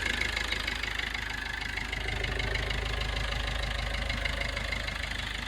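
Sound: diesel car engine idling

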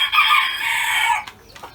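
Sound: rooster crowing in a chicken coop

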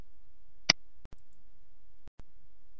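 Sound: mouse click on insert button

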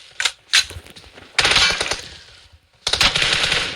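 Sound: gunfire in a shooter video game

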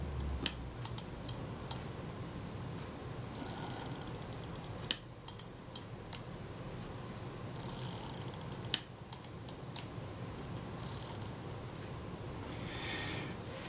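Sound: Kodak Retina IIa camera film advance mechanism being worked

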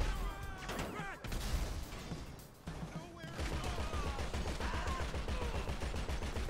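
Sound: gunfire from a helicopter in the video game GTA V

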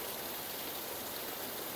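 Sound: rushing mountain stream water

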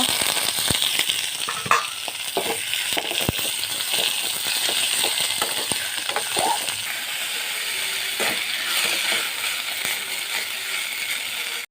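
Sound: frying in pure mustard oil

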